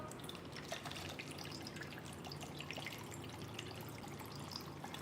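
Raspberry Kentucky lemonade is poured from a pitcher into a glass, producing a faint, continuous trickling splash with light drips, quiet and close, with no talking.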